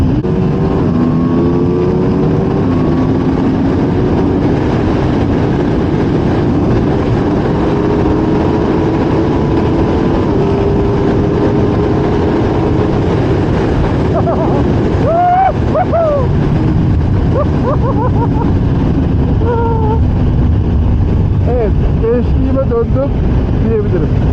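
An Aprilia RSV4 Factory superbike's high-revving engine roars steadily for a long stretch, loud and close, with pitch rising and falling as it accelerates and shifts, plus wind buffeting.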